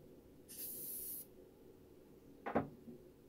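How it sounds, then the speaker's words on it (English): A short burst of spray adhesive from an aerosol can hisses for under a second, followed by a brief soft knock; otherwise a quiet room. "I'm going to spray one side"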